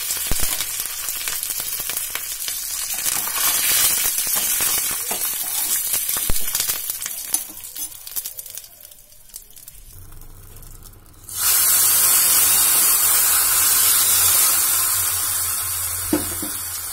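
Rice and two dried red chillies sizzle and crackle in a hot pan while making a kappa and raw banana curry, a steady frying hiss that swells sharply louder partway through and holds, close and loud with no talk.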